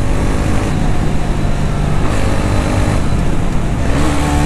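A TVS Ronin 225 motorcycle holds a loud, steady engine drone in fourth gear during a top speed test, with heavy wind rush and no speech.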